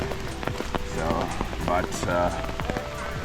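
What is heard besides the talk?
rain in a Swiss forest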